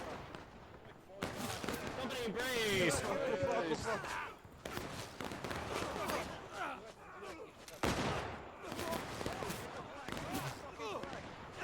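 Musket volleys crackle in a video game battle, repeated bursts of gunfire spread across the scene under continuous commentary, with louder clusters of shots near the middle and end.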